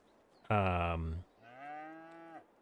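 Cattle in pens in the video game Farming Simulator 22 moo twice, a loud, full moo followed by a softer, longer one, near and clear against a quiet background.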